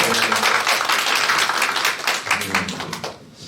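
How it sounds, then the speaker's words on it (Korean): A meeting audience claps in thanks to a ship captain, with a brisk round of close, sharp handclaps that stays strong, then tapers off and fades toward the end, with some voices underneath. "우리 김병주 김영 선장님께 감사의 박수 한번 보내드리겠습니다"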